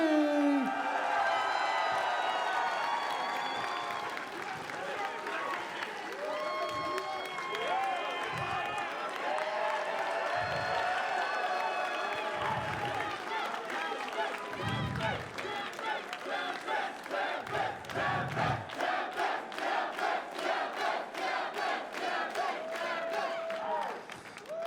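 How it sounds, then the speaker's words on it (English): A large crowd at the CEOtaku 2023 Guilty Gear Strive tournament breaks into sustained applause and cheering for the champion, with loud, steady clapping and whoops that build into rhythmic clapping toward the end. "And your CEOtaku 2023 Guilty Gear Strive champion, give it up to TempestNYC."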